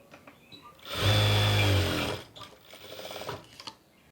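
A sewing machine stitches a skirt pocket join in one short, close burst of fast, whirring needle action lasting about a second, then falls quiet amid faint handling noise.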